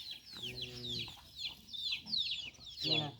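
Backyard chickens cluck in short repeated bursts near a garden, mixed with high chirping bird calls overhead; faint, fairly close, with soft rustling between the calls.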